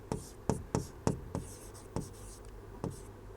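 Chalk or marker strokes on a classroom board as a chemistry teacher writes out an electrochemistry reaction: a series of sharp, separate taps and scrapes at an uneven pace, close and clear with no talk over them.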